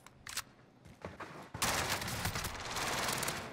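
Gunfire in Warzone: a few scattered shots come first, then a rapid, sustained burst of automatic fire. It sounds fairly faint and distant, with no talk over it.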